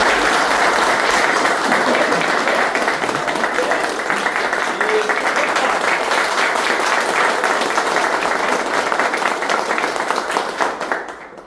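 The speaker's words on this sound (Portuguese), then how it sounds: "eu queria mais uma salva de palmas para vocês." Audience at a talk giving a sustained round of applause, dense loud clapping that holds steady for about ten seconds and then tapers off.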